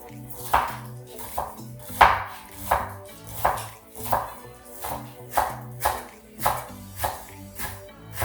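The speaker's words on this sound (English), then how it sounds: "go ahead and chop this" A knife chops scallions on a cutting board as a garnish for Vietnamese spicy beef noodle soup, giving about a dozen sharp, close, evenly spaced knocks in a steady rhythm, with no talking.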